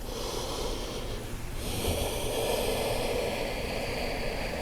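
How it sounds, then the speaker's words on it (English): A slow, deep breath taken during a yoga practice, a long airy inhale shifting into a fuller breathy exhale, close and soft with no talking. "A nice deep breath."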